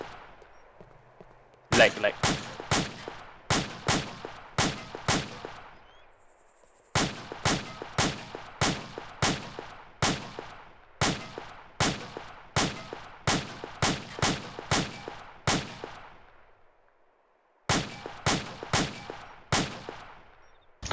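Gunfire in Arma 2: Operation Arrowhead: loud, sharp single shots fired in quick irregular bursts with echoing tails, pausing briefly twice, while players briefly talk.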